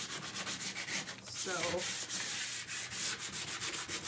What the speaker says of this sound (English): I'm making just a little bit of dust, but I'm not sanding them all the way